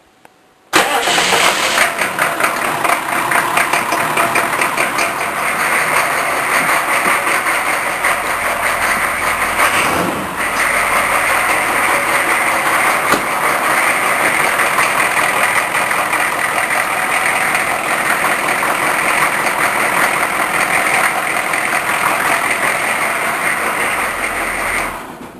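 An engine cranks and catches, then settles into a loud, steady idle running close by for over twenty seconds, with a brief dip partway through and no talking.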